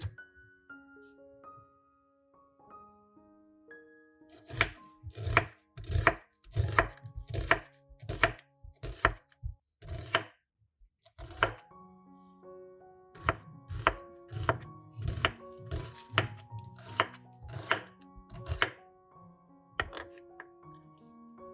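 A knife slices onions into thin slices on a cutting board, crisp rapid chops in two bursts separated by a short pause, close and clear over quiet music.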